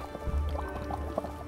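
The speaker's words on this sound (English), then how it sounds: "drain the water out" Hot water from boiled spaghetti drains through a strainer in a kitchen, a continuous close gurgling and splashing pour with low rumble and scattered drips, no talk.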